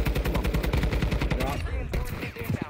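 Rapid automatic gunfire in Warzone 2, dense and continuous bursts that thin out briefly before resuming, loud and close, with a voice talking over it.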